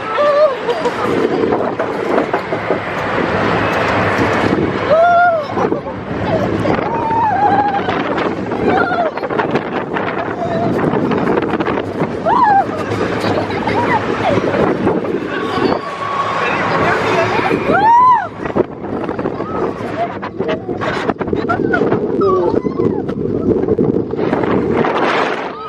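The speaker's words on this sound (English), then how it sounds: "Oh, the log ride." Riding a log flume at Nickelodeon Universe in the Mall of America brings a steady roar of rushing water and wind buffeting the microphone, with riders' excited shouts and talk layered over the continuous noise.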